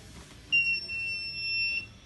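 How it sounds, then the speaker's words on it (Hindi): A Eutech CON 2700 conductivity meter powering on gives a single steady electronic beep, held for about a second and a quarter, clear and close against a quiet room. "जैसे बीप जलेगी इसका मतलब है there is a power is on"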